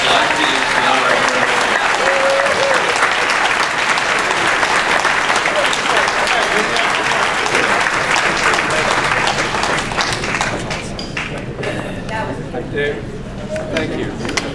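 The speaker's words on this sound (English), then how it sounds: "How about one more round of applause for all of our selectees and honorable." Sustained applause from the audience at a Pennsbury Class of 1965 50th reunion, steady and full clapping that carries on for most of the stretch before tapering slightly near the end.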